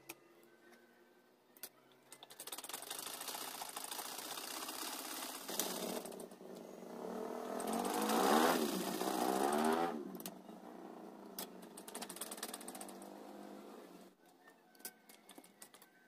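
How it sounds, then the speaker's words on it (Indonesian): Sewing machine running a single line of stitching along the band of a tanjak headdress. A quiet, steady mechanical whir with a rattling clatter keeps going for several seconds and swells briefly near the middle, with no voices. "Ini bengkungnya kita jahit sekali jalan,"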